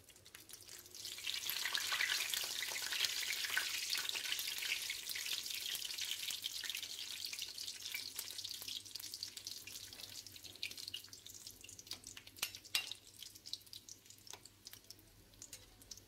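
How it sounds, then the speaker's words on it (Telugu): Chicken nuggets deep fry in oil, a soft hiss that swells after the first second, holds steady, then thins into scattered crackles and small pops toward the end. "ఆయిల్ బాగా లోనికి వెళ్ళి డీప్ ఫ్రై అవుతాయి నగెట్స్."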